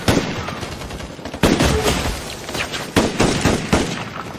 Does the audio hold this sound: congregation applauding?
no